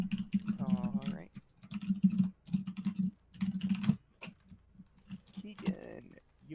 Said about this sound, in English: keyboard is so loud